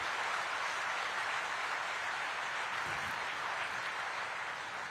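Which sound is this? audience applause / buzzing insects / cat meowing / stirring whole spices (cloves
audience applause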